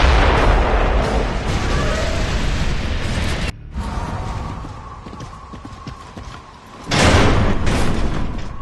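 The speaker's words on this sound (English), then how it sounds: "Mortars!" Mortar fire and explosions in the video game Gears of War: Judgment, loud and close, with dense rumbling blasts and debris, a sudden drop to quieter rumble midway, then another heavy burst of impacts.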